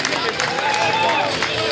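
Spectators at a survival run finish line applaud and cheer in an outdoor winter race, a busy wash of clapping and crowd noise mixed with voices, steady and fairly loud for the short moment.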